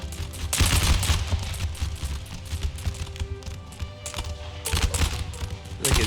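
Musket volleys in an Empire: Total War battle, rolling crackles of massed gunfire bursting repeatedly, loud and dense, with heavier volleys near the start and toward the end over a continuous battle din.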